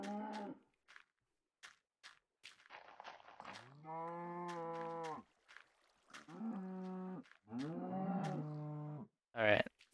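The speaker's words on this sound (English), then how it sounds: "Yeah, I hear you mooing." Several Minecraft cows moo one after another, long low droning calls with short gaps and scattered clicks between them.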